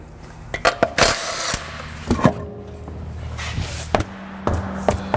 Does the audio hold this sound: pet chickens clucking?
no